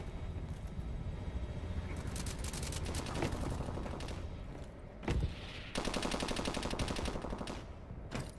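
Gunfire in the first-person shooter Call of Duty Advanced Warfare, rapid automatic bursts and single shots over a rumbling battle background, loud and close, with brief lulls between volleys.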